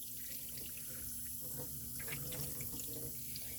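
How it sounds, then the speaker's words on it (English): Tap water running steadily into a kitchen sink while soaked almonds are rinsed, a continuous faint splashing hiss with no talking. "We're going to go ahead and just rinse them off."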